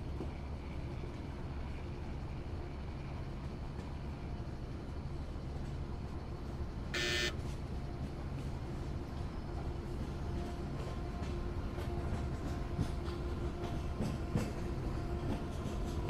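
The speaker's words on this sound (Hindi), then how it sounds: "बाजू से एक लोकल ट्रेन अपने को क्रॉस करते हुए जा रही है गाइस कल्याण की तरफ." A local train in a train simulator game rumbles steadily nearby with faint rhythmic clatter, and a brief horn-like tone sounds once partway through.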